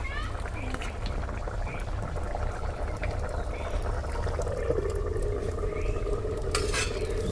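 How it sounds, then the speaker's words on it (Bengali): Chicken curry being stirred in a pot over a wood-fired clay stove, with steady scraping and a soft bubbling sizzle running throughout, with a voice talking over it. "মাটি চুলায় মাংস রান্না করতেছি"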